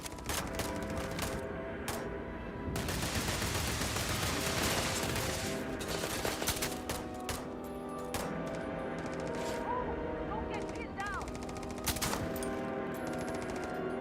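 Rapid gunfire from an old Earth hunting rifle in a video game, dense repeated shots in long sustained bursts with brief pauses, loud and close throughout.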